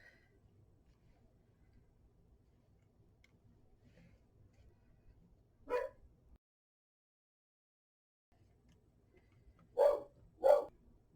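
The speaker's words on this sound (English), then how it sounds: "I had to let the dog stop barking" A dog barks three times in a quiet indoor room: one bark partway through, then two quick barks close together near the end, faint to moderate and somewhat distant, with no speech.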